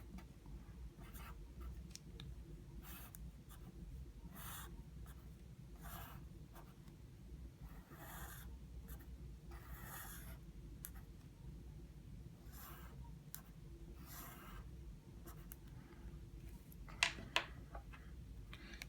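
Marker or chalk strokes on a classroom board while electric field lines are drawn, intermittent scratchy bursts over a steady low room hum, with a couple of sharper taps near the end.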